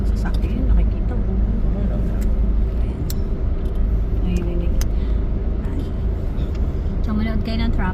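Road traffic on EDSA near Taft rumbles steadily close by, engines and passing vehicles forming a constant low roar, with people talking over it throughout.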